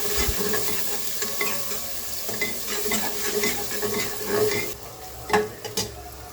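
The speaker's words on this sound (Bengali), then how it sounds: "তেলের উপর গোটা গরম মশলা দিয়ে দিলাম আর দিয়ে দিলাম পেঁয়াজ কুচি" Chopped onions and whole garam masala fry in hot oil in a pot, giving a steady close sizzle, with stirring and occasional scrapes and clinks of a utensil against the pan.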